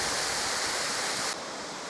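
A waterfall in the Great Glen gives a steady, dense rush of falling water, loud and unbroken, that drops slightly in level near the end.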